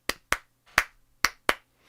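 Five sharp, dry hand claps from Steve Reich's Clapping Music, close and crisp, fall in an uneven pattern with short rests between them and no other sound.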